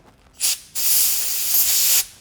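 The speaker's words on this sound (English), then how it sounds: "Hit it with a little" Compressed air blown through a chopper motorcycle carburetor during a rebuild, a short hissing blast followed by a longer steady rush of air lasting over a second, close and loud, with no talking.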